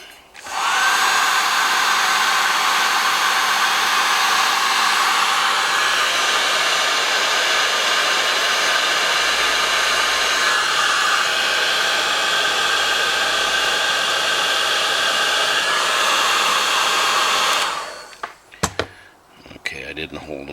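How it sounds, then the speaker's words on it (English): A heat gun blowing hot air while LEDs are being prepared, a loud steady roaring whoosh running unbroken for about seventeen seconds before cutting off, followed by a few small clicks and handling noises. "Grab the heat gun again."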